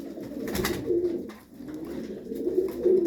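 Domestic tumbler pigeons coo softly and repeatedly, low throaty calls swelling and fading close by with no talk over them.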